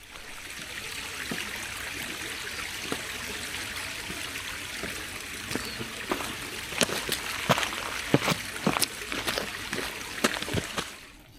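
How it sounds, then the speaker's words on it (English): Small waterfall stream trickling across a hiking path on the West Highland Way near Loch Lomond: steady rushing, splashing water close by, with scattered brighter drips and splashes over the flow. "So many of those little waterfall crossings along this route."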